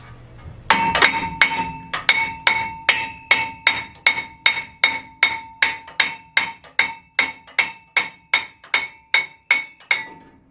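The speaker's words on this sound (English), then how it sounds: "Brass mallet, highly recommend if you're going to be wrapping on the back of a rotor." A brass mallet striking the back of a front brake rotor on a 2013 Ford F150 during a wheel hub replacement, about twenty sharp ringing metallic blows at a steady, regular pace, close and loud.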